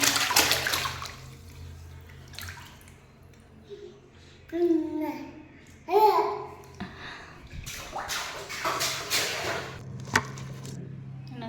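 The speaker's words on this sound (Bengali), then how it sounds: "জল ভরতে নিয়ে এসে জল ভরতে চান করতে বসে পড়েছে।" Water runs and splashes as two young brothers are bathed after being oiled, with bursts of pouring and sloshing in a tub, close by, and a voice briefly heard.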